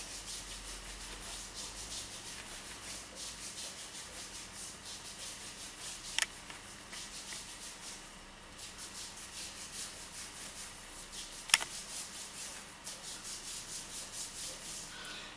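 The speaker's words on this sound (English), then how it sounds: "And then you rub from wrist to shoulder 30 times." A hand rubs steadily up and down the arm from wrist to shoulder during self-massage, giving a soft, continuous, close brushing texture with a couple of faint clicks.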